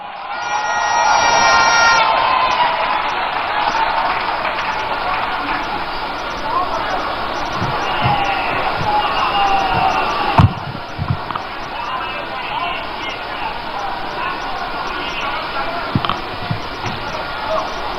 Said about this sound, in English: Ladies and gentlemen, with a round of applause, welcome to the microphone the Minority Leader, Honorable Dr. Atoforsen